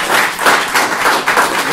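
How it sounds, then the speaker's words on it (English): Audience applause at a political speech about bringing troops home, a dense steady wash of clapping from a crowd, fairly loud and continuous with gentle swells, no voices over it. "I think that's worthy of some applause."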